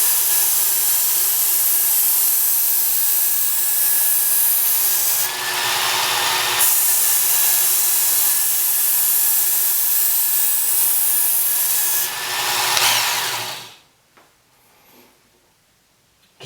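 Knife blade drawn across the belt of a Work Sharp Ken Onion belt sharpener during freehand sharpening, a loud continuous motor whine with abrasive hiss, two brighter surges as the edge is pressed, then the motor cuts off and spins down.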